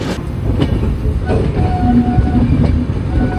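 Passenger train pulling into New Jalpaiguri railway station in the early morning, a loud close rumble with rhythmic clickety-clack of wheels over rail joints and brief wheel squeals, with no talk.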